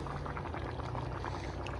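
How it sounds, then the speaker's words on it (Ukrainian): Water boils off in a pot of rice pilaf, a continuous bubbling hiss that stays steady and close throughout, with no voices. "Трошки зараз водичка википить."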